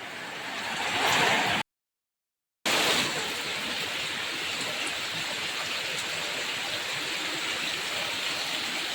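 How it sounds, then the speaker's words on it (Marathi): Heavy monsoon rain pours down in the Konkan countryside as a dense, steady hiss, loudest at the start, broken by a short silent gap, then continuing evenly for the rest. "पावसकर इलो, जोरात इलो."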